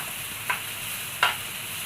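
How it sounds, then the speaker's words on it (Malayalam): Two short scraping stirs of frying food in a non-stick pan, a spatula sweeping through the pan about twice over a steady background hiss, close and fairly quiet. "ലോ ഫ്ലെയിമിലും ഹൈ ഫ്ലെയിമിലും വെച്ചിട്ട് മാറ്റിയിട്ട് തന്നെ ഞാനൊന്ന് ഇളക്കി കൊടുക്കുന്നുണ്ട്"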